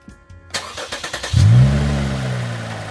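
A Lexus IS350 fitted with an HPS intake fires up after a few starter cranks, then revs sharply once and settles into a loud, rumbling idle, close up with no talk.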